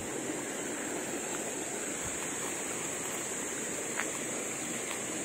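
Small waterfall at Signal Falls in Mariveles, Bataan, a steady, even rush of falling water filling the whole moment, with a faint high hiss above and no voices.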